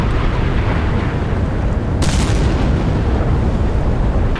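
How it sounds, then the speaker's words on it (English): Naval missiles launching in the naval strategy game Sea Power: a constant loud roaring rumble of launches and explosions, with a brighter rushing burst about halfway through, all running continuously with no speech. "Because Ed's got so many more missiles, he'll just keep firing them."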